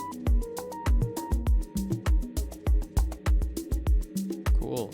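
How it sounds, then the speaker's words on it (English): An ARP Fireworks synth preset from the Felix Raphael Organic pack plays a bright, plucky arpeggio fill in a relaxed desert house groove. The notes ride over a steady thumping kick, and a fluttering run closes the phrase. "Small synth arpeggio fills in the background. This is one of Production Music Live presets from the Felix Raphael Organic pack."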